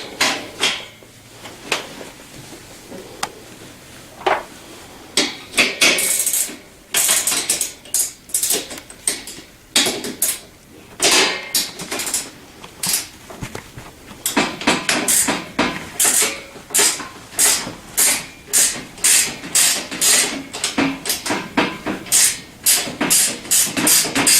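An 11/16 nut is worked off the front axle of a Tao Tao CY50-T3 scooter: close metallic clicks of a ratcheting wrench in quick rhythmic bursts, with scattered clanks of metal parts and tools, no talk.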